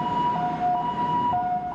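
An ambulance siren wails during a night of clashes as injured protesting students are taken to hospital, its two alternating tones holding steady and loud, with a low traffic rumble underneath.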